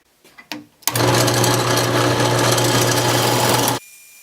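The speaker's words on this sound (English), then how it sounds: "Now let's just take the gouge and just clean these up and make it one consistent round cylinder." A wood lathe spins a purpleheart pen blank while a gouge cuts it round, giving a steady, loud whirring hum with a constant tone that starts abruptly after a few knocks and stops cleanly after about three seconds.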